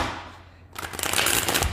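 Tarot cards being shuffled: a quiet moment, then a dense riffling rush of flicking card edges building to a loud, steady flutter.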